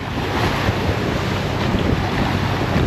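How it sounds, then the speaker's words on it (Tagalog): Sea waves slapping against a small boat out at sea, a loud continuous rush of water and wind buffeting the microphone, with no talking. "Nagsisimula na ang alon."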